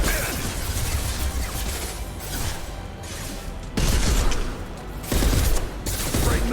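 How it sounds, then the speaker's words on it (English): Repeated impact-shot gunfire from the video game Mass Effect, loud bursts of shots and crashing blasts over dense battle noise, with stronger volleys near the end. "Firing an impact shot."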